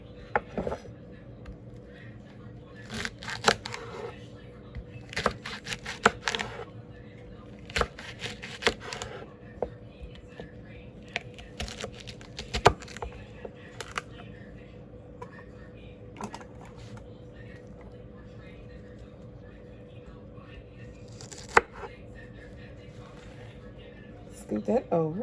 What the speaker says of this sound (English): Okay, now I can begin chopping away.